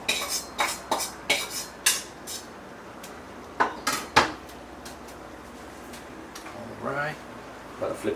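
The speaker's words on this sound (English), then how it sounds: "Plating my rice." Dishes and cutlery clink while rice is plated, a quick run of sharp, close clatters and scrapes, then quieter handling with a few louder knocks; a voice speaks briefly near the end.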